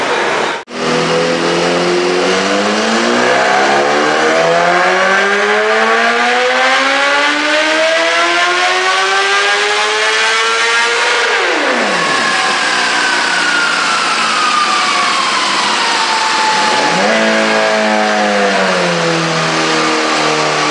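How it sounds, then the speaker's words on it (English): A BMW motorcycle on a dyno test screams through a sustained full-throttle pull, pitch climbing loud and close for about eleven seconds, then falling off; after a short lull it briefly revs again and drops back. "getting ready to test Will Torres' bike after the changes we made"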